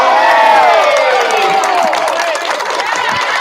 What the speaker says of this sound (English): Hearing the crowd reaction